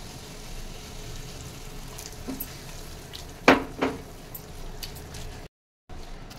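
A splash of water hits soya pulao in a hot pan, sending up two sharp bursts of hiss over a low background sizzle, followed by scraping stirs and a brief cut to silence.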